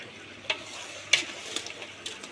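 Chicken gravy stirred in a frying pan with ginger-garlic paste, a soft continuous sizzle broken by a few light scraping strokes of a spoon, quiet and close.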